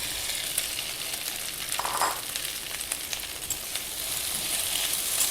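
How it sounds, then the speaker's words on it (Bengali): Sliced okra frying in mustard oil in a pan gives a steady, close sizzling hiss, with a brief stirring scrape partway through. "ঢ্যাঁড়সটা ভাজবো অল্প একটু দেবো এবার কেটে রাখা ঢ্যাঁড়সটা দিয়ে দেবো"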